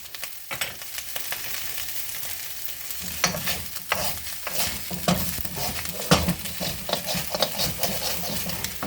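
A big metal spoon stirs a vegetable stir fry in a hot pan, with loud clattering scrapes in irregular bursts over a constant close sizzle and no talking.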